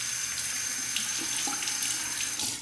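A safety razor is rinsed under a running tap, giving a steady, close hiss of water pouring into a sink with small splashy shifts as the blade turns in the stream, and no talking.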